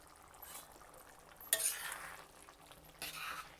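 A spoon scraping and stirring green peas chaat masala in a pan on the stove, a couple of soft clinking strokes over a faint low simmer, quiet and close, no talk.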